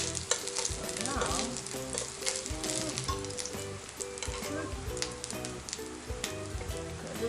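Ginger sizzles and fries in hot oil for a pork chop dish, a loud, steady crackle with stirring noises throughout and no talking.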